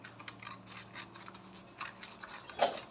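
Scissors cutting a paper sleeve pattern while drafting an extended drop shoulder with yoke, a faint series of soft snips and paper rustles in an irregular rhythm, with one sharper click near the end and no voices.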